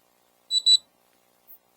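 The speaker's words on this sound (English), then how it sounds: "Beeps, it's connected." A drone controller tablet gives two quick high-pitched electronic beeps in close succession as it connects to the aircraft, followed by a fainter short chirp in an otherwise silent room.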